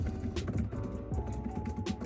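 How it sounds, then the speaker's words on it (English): Keys clack on a DOQO Blade keyboard case for an iPad Pro M4, a quick close run of soft taps with no talking. "The typing experience is, as expected, similar to what DOQO offers."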